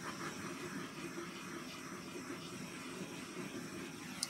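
A nearly empty gas torch hisses over acrylic paint, giving a steady, close, broadband hiss that runs without a break and without any voices.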